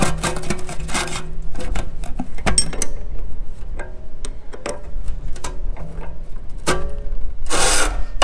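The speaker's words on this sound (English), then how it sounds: "Hear all that grinding?" Metal grinding on equipment at a buffalo ranch, heard as irregular scraping and rasping bursts with sharp clicks and knocks. It sounds close and fairly loud, with a dense harsh burst near the end.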